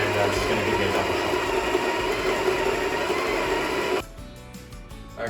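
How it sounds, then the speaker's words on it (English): A coffee grinder runs a 15-second grind of beans for a double shot at home, a loud, steady whirring roar that cuts off abruptly, leaving near silence. "I've got this set up to do a 15-second grind"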